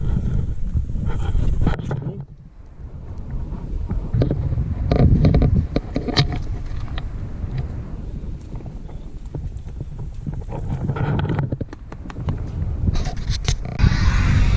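A pickup truck tows a homemade driveway drag on a cable looped to its ball hitch, the steady engine drone and gravelly scraping rolling on continuously, with a brief lull partway through and a person speaking over it.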